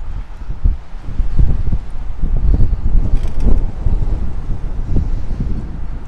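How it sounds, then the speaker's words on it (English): Strong wind buffets the microphone in loud, continuous gusts with a low rumbling roar and no voices. "It is so windy, my tripod just moved."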